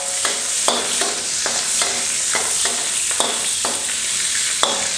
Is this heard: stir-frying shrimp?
yes